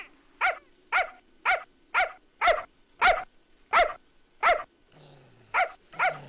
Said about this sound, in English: It's a pooch!